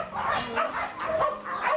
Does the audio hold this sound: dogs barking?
yes